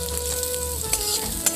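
Curry leaves frying with carrots and potatoes in a pan for a broken-wheat (dalia) upma, a steady close sizzle with light stirring scrapes and a faint background tone.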